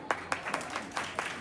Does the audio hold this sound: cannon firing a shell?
no